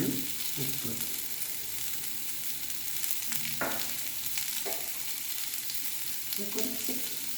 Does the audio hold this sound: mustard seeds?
yes